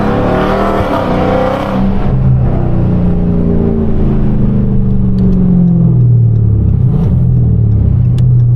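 A Hellcat engine rumbles loudly with deep exhaust tone while cruising through downtown Charlotte, revs dropping and rising as it downshifts, continuous and close.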